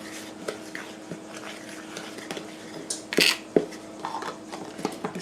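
Batter of whole milk and dry ingredients stirred in a mixing bowl for a cherry cobbler, with soft scraping, spoon clinks and a few sharper taps against the bowl, no speech.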